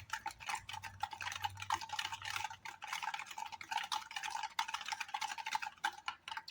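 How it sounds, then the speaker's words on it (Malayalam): A whisk rapidly beats sugar in a mixing bowl for plum cake batter, making fast, continuous, light scraping and clicking against the bowl with no talk. "പഞ്ചസാര ഇട്ടിട്ട് നമുക്ക് നല്ലോണം ഒന്ന് ബീറ്റ് ചെയ്തെടുക്കാം."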